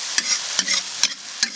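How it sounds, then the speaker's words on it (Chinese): Soaked dried chili peppers stir-fried in a hot wok, four sharp scraping spatula strokes at even intervals over a soft continuous sizzle, close and alone. "来把这辣椒，干辣椒泡过水的， 给它"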